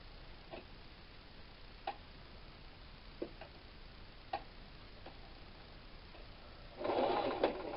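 Faint, sparse ticks of a sewing machine stitching a Storm at Sea quilt block, scattered single clicks over a quiet hiss, ending in a brief louder whirring run of stitching near the end.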